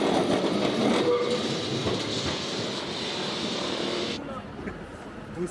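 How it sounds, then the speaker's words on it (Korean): A yellow tram rolls through the streets of Lisbon with a steady rumble and rail noise, fairly close, fading and cutting off near the end, with a voice talking over the running sound. "리스본 하면 노란 트램이 빠질 수 없다."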